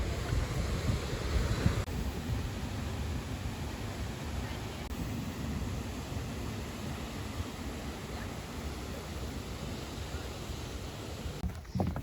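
Steady roar of an Icelandic waterfall fills the scene, broad and constant, with wind buffeting the microphone and faint voices of a crowd mixed in.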